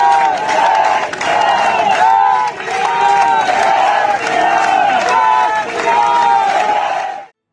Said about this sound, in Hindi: तालियां बजा रहे हैं और फिर जय श्री राम के नारे लगा रहे हैं